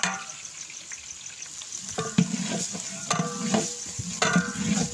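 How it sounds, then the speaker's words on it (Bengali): About 500 grams of garlic fry in a large pan for a big batch of dal chhakka, with a steady loud sizzle broken by repeated scraping and clanking strokes of a stirring spoon. "এবারটা আপনারা রসুন দেবেন, 500 গ্রাম রসুন"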